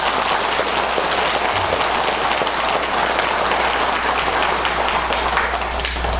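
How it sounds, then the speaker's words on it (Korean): A large audience at a Korean Buddhist dharma lecture claps together in a dense, continuous burst of loud applause, steady and close throughout with no talking on top. "내 한평생 이 시간 이후로는 불평불만 하지 않으리라 하는 분만 크게 약속의 박수를 한번 치세요."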